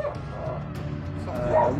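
Sedated dog waking in its cage gives a couple of short, close, whimpering yips and barks over a low background hum.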